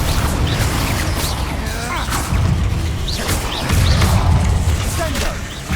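Spell blasts from Hogwarts Legacy, Confringo and Incendio, burst one after another amid whooshes, fiery booms and thuds, layered over dense game music and combat noise that stay loud throughout.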